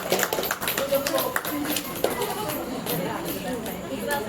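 Applause from an audience at a felicitation gathering for novice Buddhist monks: dense, steady clapping that fills the room nearby, thinning slightly toward the end, with some murmured chatter underneath.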